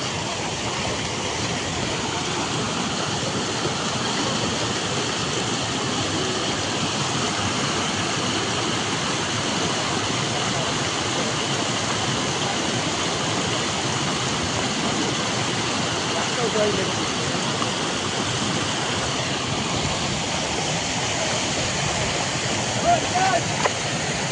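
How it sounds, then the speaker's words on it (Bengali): Fast floodwater rushes past a flooded roadside in Ratanpur, Hailakandi, as a steady broadband roar of water that stays loud and constant throughout, with no pauses. "দেখতে পারেন জলের স্পিড, মানে বোঝার মানে জলে বাড়ি মারি ফেলাই দিব"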